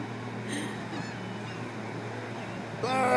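Goose-like honking from a bird outdoors, with brief calls early on and a louder, harmonic-rich honk near the end over a constant background wash.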